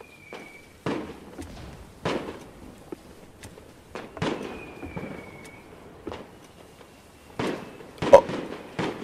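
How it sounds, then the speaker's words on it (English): Fireworks in a Roblox horror game go off as a string of sharp cracks and pops, scattered irregularly and some fairly distant, with a faint whistle between bursts and no talking. "Oh, that's fireworks."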